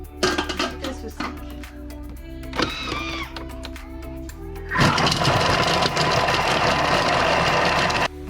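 A kitchen food processor blends onion, garlic and ginger at speed five, starting with a few short pulses and clicks before running in a steady, loud, gritty whir for several seconds.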